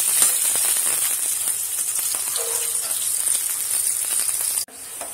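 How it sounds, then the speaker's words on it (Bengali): Onions fry in hot oil in a kadai until browned, giving a steady close sizzle with light crackles that cuts off sharply near the end. "পেঁয়াজটা বাদামি করে ভেজে নিই।"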